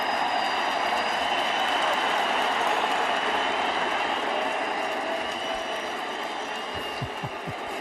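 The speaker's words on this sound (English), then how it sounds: "Listen to this crowd." A packed crowd at a Yankees baseball game, roaring in a dense, sustained wall of cheering that stays loud and even throughout, with a few low thumps near the end.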